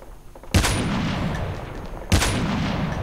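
Two booming gunshots ring out in a Call of Duty Mobile duo ranked match, each a sharp loud blast followed by a long rolling echo, spaced about one and a half seconds apart.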